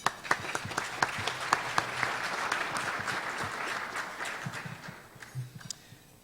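Audience applause welcoming panelists at a live-streamed submarine cable industry panel: a sustained crowd of clapping hands, moderately loud with sharp individual claps standing out, tapering off toward the end.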